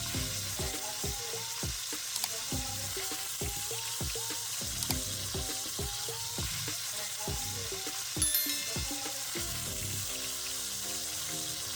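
Meat for Dominican sancocho sizzles and fries in a pot over medium heat with a little water added, producing a steady loud crackle punctuated by repeated stirring scrapes and clanks, with no talking.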